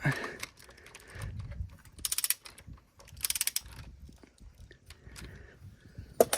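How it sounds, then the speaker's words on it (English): Ratcheting clicks from a torque wrench tightening camshaft bolts on a Cummins X15 engine during a rebuild, coming in short bursts of metallic clicking close by, with quieter handling noise in between. "So now we're gonna torque these to 22 foot-pounds"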